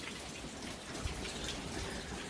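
Steady rain falls outside an abandoned, long-empty building, a dense, even patter with a faint low drumming, heard from indoors at moderate level with no talk.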